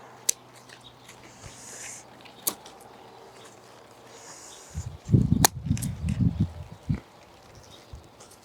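Pruning shears snip leaves off a white champaca plant during air layering, with a few sharp isolated clicks followed by a cluster of rustling, crunching leaf sounds close by in a quiet setting.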